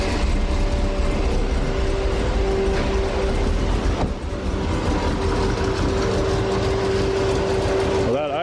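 Turbocharged LS V8 in an AMG wagon idling too low after a Terminator X fuel injection install, a loud, close, lumpy rumble with a steady whine on top and brief ticking mechanical clatter throughout.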